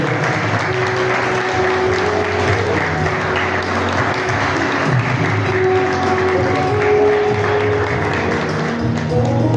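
Students at a college annual function applaud loudly, a thick continuous roar of clapping from a large crowd holding steady throughout.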